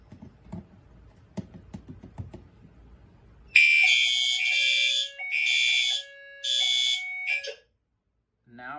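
A Fire-Lite SD355 smoke detector is triggered by a test magnet and sounds a loud, shrill electronic alarm in several repeated pulsed bursts. It follows a stretch of quiet clicking and handling, and no one speaks.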